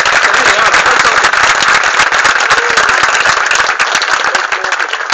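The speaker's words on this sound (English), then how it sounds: "So give them a round of applause." A crowd at a Clonmel tribute event applauds a band with loud, dense, continuous clapping that stays fairly even for several seconds and eases slightly at the end.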